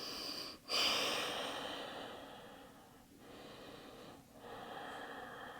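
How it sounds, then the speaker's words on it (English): Slow deep breaths during a power yoga session, a loud rushing inhale near the start followed by long, steady airflow with brief pauses, close to the microphone and with no talking. "2 deep breaths"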